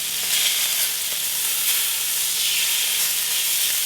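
Venison tenderloin fries in butter in a hot pan, giving a steady, close, bright sizzling hiss that holds at an even level throughout.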